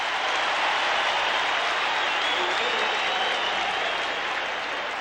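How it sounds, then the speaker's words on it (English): A football stadium crowd roars throughout an NFL game between the Philadelphia Eagles and the Buffalo Bills, a dense, steady wash of cheering at full volume with no breaks. "and the crowd comes to life"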